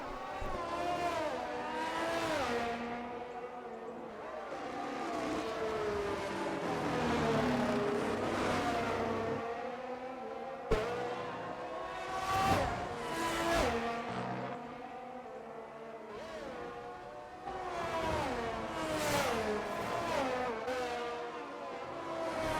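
Formula 1 race cars in the F1 23 video game, including an Alfa Romeo, scream past with high-revving engines rising and falling through gear changes, one car after another, loud and continuous with no talk.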